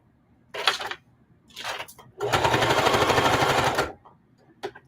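A sewing machine stitches a quilted mug rug in short rattling bursts, followed by one longer run of about two seconds and a final quick stab, with quiet gaps between them and no speech.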